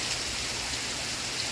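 Steady rain falls in a soft, even hiss of drops, continuous and fairly quiet, with no voices.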